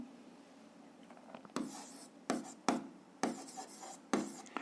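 Pen strokes on paper while writing by hand, noting a physics problem's atmospheric pressure. Several distinct bursts come in an irregular rhythm, close and moderately loud over a faint room hum, with no talk.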